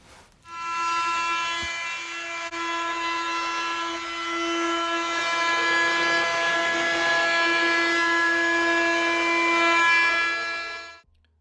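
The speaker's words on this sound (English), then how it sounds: "I'm using a small roundover bit to round over the arms on both sides, the top and the bottom." A router with a small roundover bit rounding over the edges of wooden arms, producing a loud, steady high-pitched whine that starts up sharply, holds for about ten seconds, and then cuts off.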